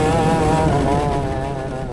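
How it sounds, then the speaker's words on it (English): A Thai longtail riverboat racing engine roaring close and loud, a dense buzzing tone that slowly fades a little over two seconds. "So today we're taking a deep dive into this underground world of Longtail riverboat racing."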